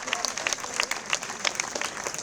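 A crowd claps at a festival opening ceremony, producing dense, continuous applause with sharp individual claps popping out, fairly close and filling the whole moment with no voice over it.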